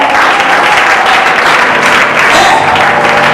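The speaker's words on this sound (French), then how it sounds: "Acclame un peu le Seigneur, s'il te plaît." A church congregation loudly applauds and acclaims the Lord at an evening youth service, with thick continuous clapping and crowd noise filling the space at close range.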